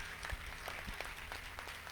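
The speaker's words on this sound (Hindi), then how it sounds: "एक बार जोरदार तालियां प्रभु के लिए" A church congregation claps for God during a Sunday service, the applause fairly faint and steady with some scattered louder claps throughout.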